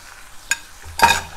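Spices such as ginger paste, cumin, coriander, chili and turmeric stir-frying in a pan for Kawoi fish curry, two short bursts of sizzling and scraping with quiet pauses between.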